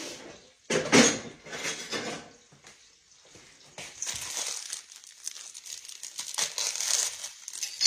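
Plastic packaging crinkles and rustles in bursts as it is cut open with a knife and pulled open, with brief quiet pauses between handling sounds.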